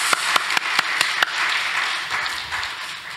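Several sharp claps land in an even rhythm, then give way to a softer wash of church congregation applause that gradually fades, at a Baptist church service.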